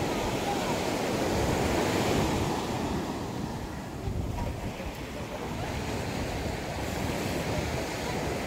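Ocean surf rolls onto a tropical beach in Aceh Singkil, a continuous low roar of breaking waves with strong wind buffeting the microphone and no clear voices.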